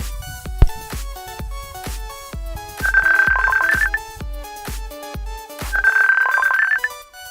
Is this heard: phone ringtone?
yes